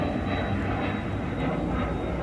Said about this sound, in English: Got a baby jet above me.